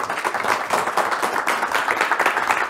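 Dense, continuous clapping from a studio audience on a Turkish television talk programme, a steady mid-level wash of many hands with no break across the short stretch.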